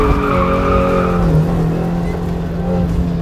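A car drifts on a closed course, its tires squealing and skidding loudly and continuously under a roaring engine with no break for over three seconds.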